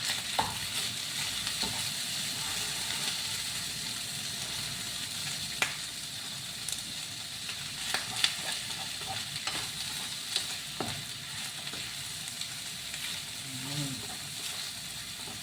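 Corned beef frying in a small amount of oil, a steady close sizzle and crackle with occasional stirring scrapes, continuous throughout with no talking.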